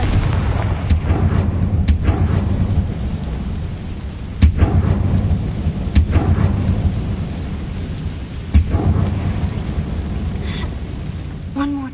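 Booming blasts from a fire spell in a video game, several heavy explosive cracks spaced a few seconds apart over a rumbling, rain-like wash of background noise.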